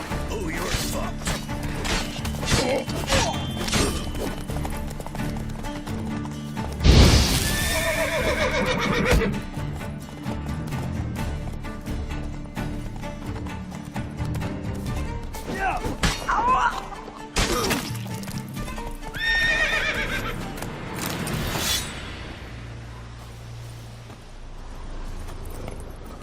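Horse neighs and whinnies over thudding hooves and clattering, crashing game action in The Witcher 3, with a loud burst of commotion partway through and a dense, busy mix throughout.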